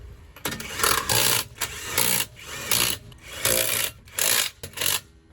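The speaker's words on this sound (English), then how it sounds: "It's only a 20 volt little impact wrench, but it does the job." A 20-volt cordless impact wrench on a 1/4-inch drive runs wheel bolts on a Nissan Leaf Mk1 in a series of loud whirring, buzzing bursts separated by short pauses, close by.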